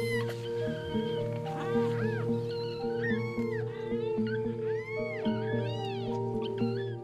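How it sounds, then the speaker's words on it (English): A young lion cub, pushed out of its nest, cries with repeated high, wavering mews, close and plaintive, over a steady low background hum. "Accidentally pushed out of the nest, this kitten instinctively cries for help."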